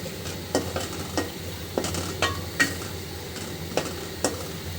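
Pabda fish curry simmers in a pan with a steady, gentle sizzle, while a spatula scrapes and stirs through the gravy in a series of sharp, evenly spaced knocks up close.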